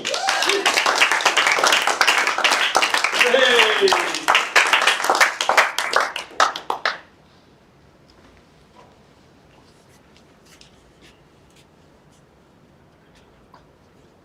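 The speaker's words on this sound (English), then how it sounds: "give him a great round of applause, please, for Hugo Hartl" A crowd at a Trade Me auction claps loudly for the auctioneer, a dense burst of applause lasting about seven seconds that tapers into scattered claps, then near silence with faint room noise.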